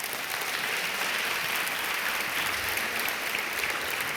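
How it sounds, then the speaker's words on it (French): Audience at a launch ceremony for a mentoring month applauds loudly for the mentoring collective's president, sustained dense clapping filling the room from start to finish. "Je vous demande d'applaudir très fort le président du collectif Mentorat"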